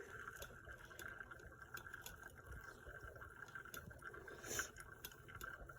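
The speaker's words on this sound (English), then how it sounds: "So you want to pour very slowly over the grounds." Hot water poured slowly from a kettle over coffee grounds in a Chemex, a quiet continuous trickle with soft splashy bursts and a brief louder gush near the end, heard close up and alone.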